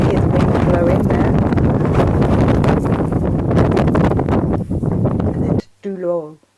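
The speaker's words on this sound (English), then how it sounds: "Here's the wind blowing there." Wind buffets the microphone at the drift stones in Cornwall, making a loud, continuous rumbling roar that drops away abruptly near the end as a person starts speaking.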